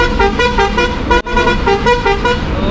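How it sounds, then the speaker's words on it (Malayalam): A bus's loud multi-tone musical horn blasts continuously for about a second, cuts out briefly, then blares again in a second long blast, close and dominating the clip. "നീട്ടടി രണ്ട് ഹോൺ മടക്കി."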